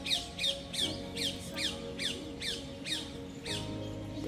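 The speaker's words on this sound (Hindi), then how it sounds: "हाँ तोता बुला रहा है।" A parrot calls near a temple in Vrindavan, giving a steady series of about nine harsh, loud squawks spaced roughly half a second apart, heard alone over faint background hum.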